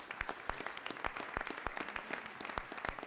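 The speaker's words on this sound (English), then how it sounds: "Round of applause, please." Applause from a council meeting audience for a prize winner, a steady patter of many hands clapping at moderate distance, fairly quiet and continuous with no talk over it.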